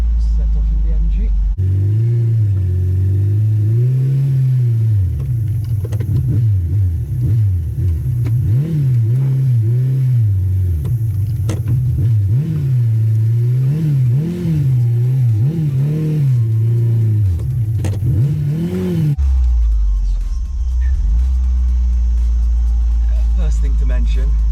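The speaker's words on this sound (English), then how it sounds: "let's get in the cars and see how they drive. Alright, set off in the MG." A 1977 MGB 1.8 convertible starts off and drives away, its engine revving up and down through the gears in a loud, close, rising and falling drone, then settling to a steady cabin rumble.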